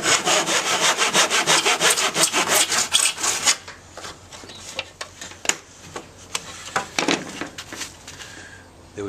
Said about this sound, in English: I'm just going to get a slight angled cut off the end so that I have a little bit of a wedge coming down on the tire